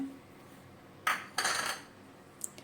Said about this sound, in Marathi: आपण आता हा ह्या पातेल्यामध्ये काढून घेऊया